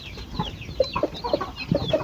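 Pet chickens, including a young hen close to laying age, cluck in short, irregular bursts at close range, with a few louder calls standing out over soft background rustle.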